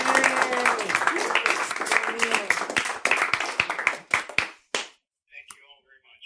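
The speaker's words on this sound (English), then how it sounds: "Give Neil a big round of applause" Audience applause for Neil: dense, sustained clapping from a crowd for about four seconds, thinning into a few scattered claps before trailing off into near silence.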